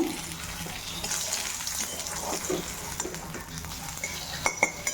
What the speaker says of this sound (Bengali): এটা একটা পোস্তর বড়া ভেজে নিচ্ছি